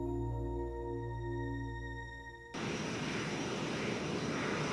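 A fixed-wing airplane passes overhead, its steady engine drone loud and continuous, with a low tonal hum that gives way to a broad, roaring rush.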